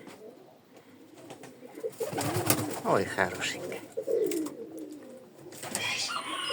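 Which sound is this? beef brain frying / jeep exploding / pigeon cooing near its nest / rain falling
pigeon cooing near its nest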